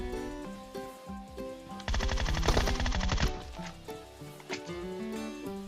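A Groza assault rifle firing in PUBG Mobile, heard as a rapid burst of automatic gunfire in the middle with scattered shots before and after, over steady game sound.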